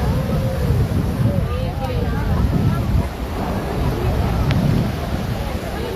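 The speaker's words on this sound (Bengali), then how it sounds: "ঢেউটা দেখে ভয় লাগছে।" Sea waves surge and crash steadily at New Digha beach on the Bengal coast, a loud continuous roar with heavy wind buffeting the microphone and voices talking over it.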